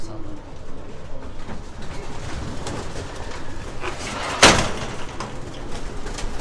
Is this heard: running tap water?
no